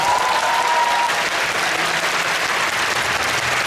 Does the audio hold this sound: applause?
yes